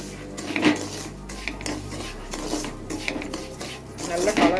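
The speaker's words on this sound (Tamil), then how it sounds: "ரவையை இதிலே போட்டு நல்லா வறுத்துக்கோங்க" Semolina roasting in ghee in a metal pan, with a spoon scraping and clinking against the pan in irregular strokes, close and moderately loud.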